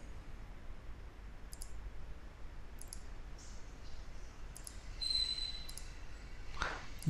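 Computer mouse clicking while drawing walls in Revit with a plugin: several faint, sharp clicks spaced apart over a low steady hiss, some in quick pairs.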